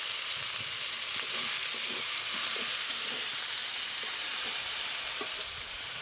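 Turmeric, coriander and chili powders sizzling and frying in oil in a pan for a vegetarian soybean curry, a continuous close hiss with faint scraping of stirring underneath.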